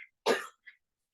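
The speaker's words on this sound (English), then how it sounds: "I'm still coughing." A single hard cough from an adult woman who has been sick, fairly close and loud, followed by a short faint throat noise, with silence around it.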